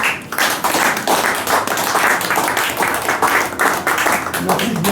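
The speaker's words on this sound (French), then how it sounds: "Bien, papa César, nous vous invitons sous vos acclamations." A ceremony crowd at a foundation's New Year greetings exchange applauds with brisk, sustained clapping, loud and near, while voices murmur and call out underneath throughout.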